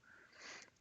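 A person sniffs once through the nose, a soft airy rush close to the microphone that swells and fades within a second, heard on its own without talk.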